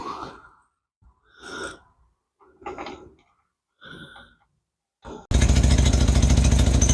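A 1961 AMC (Nash) Metropolitan barn-find engine with a massive exhaust leak, first a few short bursts with pauses between them, then a sudden loud, steady, broadband roar that runs on to the end.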